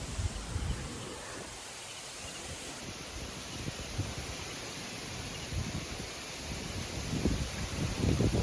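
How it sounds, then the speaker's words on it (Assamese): Wind blows outdoors on a hot day around a raised bamboo hut, a steady broadband rush with low gusty rumble that swells toward the end, with no talking. "গৰম দিনত এনেকুৱা বতাহ বহুত ভাল লাগে।"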